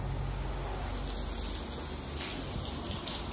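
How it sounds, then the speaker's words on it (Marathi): Water sprayed steadily onto freshly built walls for curing on a construction site, a continuous close, even hiss and gush with no talking. "पाणी मारले"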